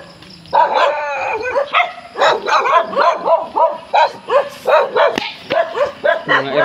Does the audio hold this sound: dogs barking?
yes